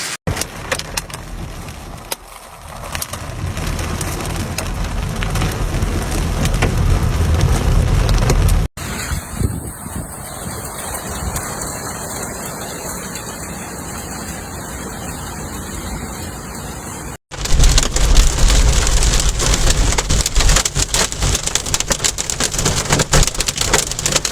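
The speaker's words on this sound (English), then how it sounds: "with gusts of wind, pouring rain and hail" Steady, heavy rain and hail pour down with gusts of wind in a dense hiss in Treviso, Italy, the texture shifting between sections as if recorded in different spots; no voices.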